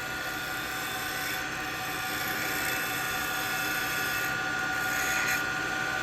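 A woodturning lathe cuts spindle work, giving a continuous, even whirring hiss with a high whine. The level stays steady and close throughout, with no talk.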